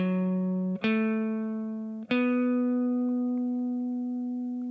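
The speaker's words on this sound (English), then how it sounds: "this is a really, really common lick in gospel music" A gospel guitar lick built on a sliding pentatonic scale: sustained clean notes with two slides up in pitch, each ringing out long and smooth, played alone.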